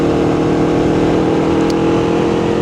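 A borrowed Ducati Hypermotard motorcycle on the move gives a loud, steady engine drone blended with rushing wind noise, continuous and close throughout with no voices.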